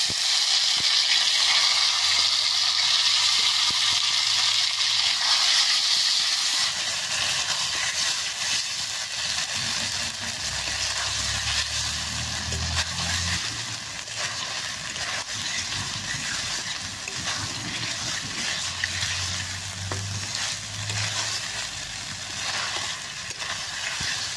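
Marinated cuchia eel frying in hot oil with burnt panch phoron, a steady, loud sizzle that runs through the whole stretch, with low rumbles and bubbling swelling underneath at times.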